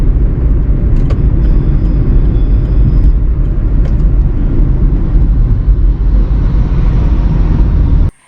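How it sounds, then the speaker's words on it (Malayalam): A car moves slowly in the right lane of a four-lane road, giving a loud, steady, close road-and-engine rumble that continues unbroken before cutting off abruptly at the very end. "അവിടെ ഞാൻ സ്ലോ ആയിട്ട് വണ്ടി ഓടിക്കാൻ പോവാണ്"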